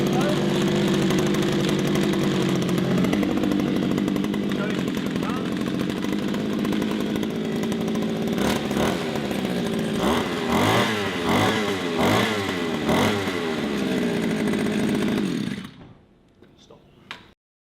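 Brand-new 2-stroke petrol pole tool running with a loud buzzing engine drone, briefly revving up and down before cutting out abruptly into near silence.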